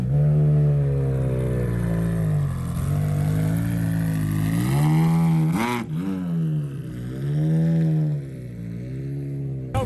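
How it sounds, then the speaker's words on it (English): A McLaren 720S fitted with a loud aftermarket exhaust roars at close range, its engine note rising and falling through revs with a sharp blip midway, heard alone without talk. "This 720S was super loud, so maybe there was an exhaust on it"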